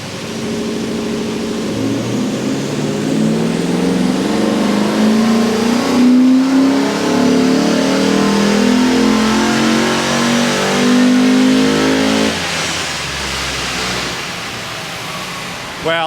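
A tuned Ford 5.4 V8 engine on a chassis dyno revs hard and climbs steadily in pitch to a loud roar, holds briefly, then drops off as the throttle closes.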